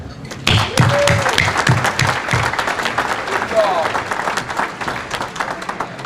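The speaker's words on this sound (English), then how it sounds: "Let's give a round of applause." Crowd applause at a racing championship awards event, steady clapping from a gathered audience with some thumps and chatter mixed in, moderately loud throughout.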